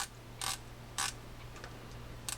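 The drag knob on a Daiwa SS 700 freshwater fishing reel is turned in short bursts of crisp ratcheting clicks. Three or four quick clusters sound close and clear over a low background hum.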